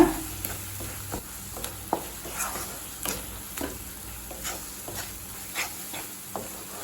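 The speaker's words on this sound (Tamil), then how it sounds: "மிளகாத்தூள் வாசனை போக 1 நிமிஷம் வரைக்கும் நல்லா வதக்கியாச்சு" Onion-tomato masala with chili powder, coriander powder and garam masala sizzles softly in a pan, with regular scraping strokes of a spoon stirring it every second or so.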